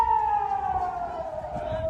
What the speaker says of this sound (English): The Foreign Secretary was hustled into a shelter when the sirens went.